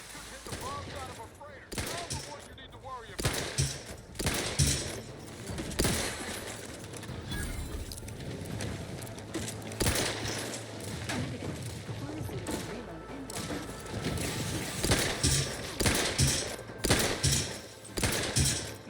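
Gunfire in the video game The Outer Worlds 2: dense bursts of shots and impacts crackle on and off through the whole stretch, loud and busy, with game noise and a voice mixed underneath.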